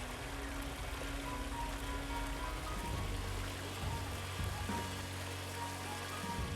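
Water pouring steadily through a sluice water feature in a garden, a soft, continuous splashing trickle heard faintly and evenly throughout.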